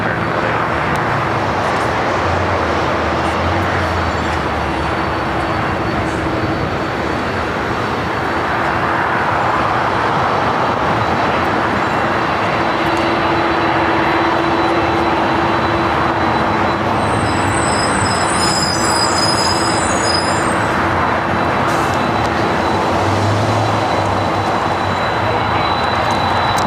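Large airliner arriving on a runway at LAX, a loud continuous roar of engines and rushing air holding steady throughout, heard from a distance with a faint high whine near the end.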